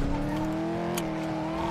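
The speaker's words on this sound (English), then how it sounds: "we're driving in the gauntlet" A Gauntlet car driven in GTA roleplay on NoPixel, a steady engine drone holding constant pitch with tyre noise underneath, loud and close throughout the short clip.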